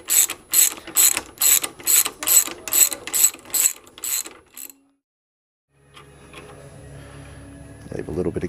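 A ratchet wrench clicks in a rapid, rhythmic run of about a dozen loud bursts while tightening bolts on a bicycle, then stops for a short silence before quieter shuffling and handling noises.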